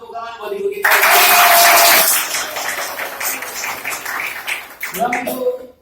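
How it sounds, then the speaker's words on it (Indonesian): Brief burst of audience clapping at a public speaking seminar rises sharply and fades within a couple of seconds, with people talking in Indonesian before and after. "tepuk tangan buat Ibu kita"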